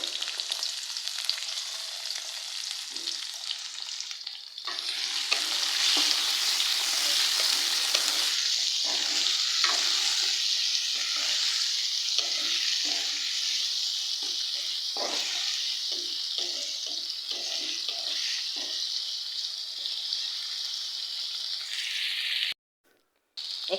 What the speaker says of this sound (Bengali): আর এখন আমি দিয়ে দেব কাঁচামরিচ, পেঁয়াজ আর চিংড়ি মাছ একসাথে দিয়ে কষাই নিব ভালোভাবে।